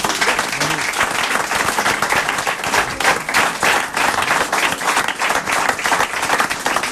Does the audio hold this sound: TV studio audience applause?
yes